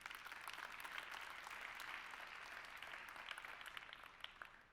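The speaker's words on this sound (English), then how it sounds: "So let's give another big round of applause for our past panel." Applause from a conference audience for a panel at a startup event, a sustained dense wash of clapping hands at moderate distance, steady and then thinning slightly at the end.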